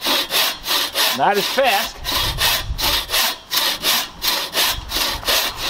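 A buck saw cuts through wood in short, quick strokes, a steady rhythmic rasp repeating roughly twice a second, close and loud, with a brief spoken remark over it.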